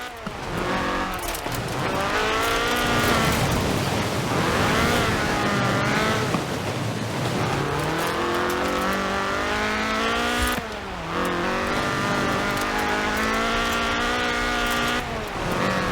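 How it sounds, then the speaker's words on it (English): A Ford RS 1800 rally car with a fuel-injected 1790cc Cosworth BDE engine in Forza Horizon 4 revs hard and climbs through gears, engine loud and close, tires squealing through corners with a brief lift near the middle. "This was a car designed explicitly for rallying, with a powerful fuel-injected 1790cc Cosworth BDE engine"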